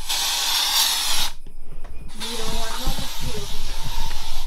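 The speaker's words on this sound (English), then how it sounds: "she's spraying mosquito spray." A short, steady burst of mosquito spray hisses from an aerosol can, loud and close, during an evening stay in Mikumi National Park, Tanzania. The hiss breaks off, then resumes under faint voices.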